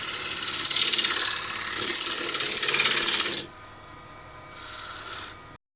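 A woodturning gouge cuts a spinning wooden bowl blank on a lathe, shaping material toward a tenon: a loud, close, bright hissing scrape for several seconds, then a quieter hum before a shorter second cut, with no talk.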